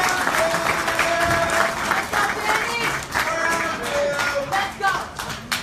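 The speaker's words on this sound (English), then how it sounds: "Please welcome, big round of applause," An audience at a boxing press conference for Daniel Jacobs versus Luis Arias claps steadily, a dense, loud wash of applause that holds for several seconds with a few scattered cheers.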